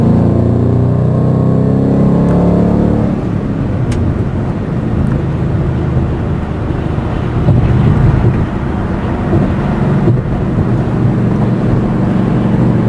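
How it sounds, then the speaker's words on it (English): A 2011 Mustang 5.0 with a stock H-pipe and MRT Interceptor axle-back exhaust decelerates through about 2000 RPM, a loud, steady low rumble blended with road and wind noise inside the car. "We'll decel through the 2000 RPM range to see the body boom."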